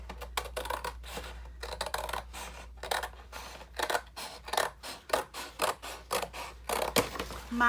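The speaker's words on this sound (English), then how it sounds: "I just use scissors to cut these pieces off" Scissors snipping through saved cardboard pieces, a series of crisp close cuts and crunches in an irregular rhythm, with small clicks between strokes and no talking.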